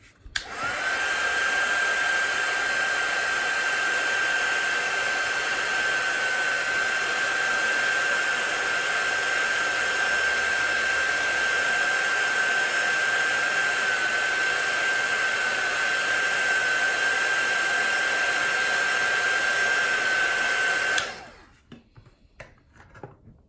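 A hair dryer blows on a watercolour painting, a loud, steady whirring hiss with a constant high whine that runs unbroken for about twenty seconds and then cuts off abruptly into near silence.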